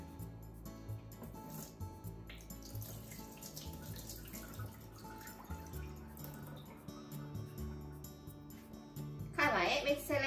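Running water splashes and trickles in a sink as soaked sweet potatoes are drained, with a louder gush near the end; a voice talks over it.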